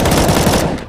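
Rapid close-range P250 pistol shots in Counter-Strike, fired during a competitive ESL India Premiership 2017 match: a loud, dense burst of overlapping cracks filling the whole moment, then tailing off slightly at the end.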